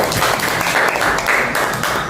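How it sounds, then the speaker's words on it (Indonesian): Steady, dense applause from a classroom of pupils for a student named Sofia during a religious studies lesson, loud and continuous throughout the short stretch with no voices standing out. "Beri tepuk tangan kepada Sofia"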